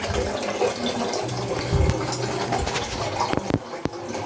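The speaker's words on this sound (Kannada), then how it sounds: "ಬಿಸಿ ಮಾಡೋದಕ್ಕೆ ಒಂಚೂರು ನೀರು ತೊಗೊತಿದ್ದೀನಿ" Water pours and splashes nearby in a short continuous stream, with a few sharp clinks toward the end and no talking.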